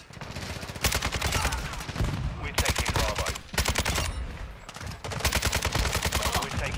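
Kastov 762 rifle firing in Modern Warfare 2, loud rapid bursts of automatic gunfire in several close strings separated by short pauses.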